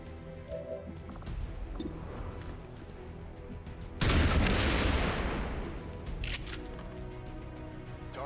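Gunfire and a heavy explosion in the XCOM 2 video game, with scattered shots early, then a loud sustained blast midway that slowly decays, followed by further impacts, all close and without talk.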